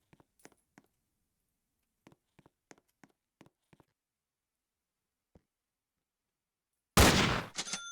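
Firecrackers go off in a string of sharp, quiet pops spaced unevenly over several seconds, ending with one loud, sustained crackling blast.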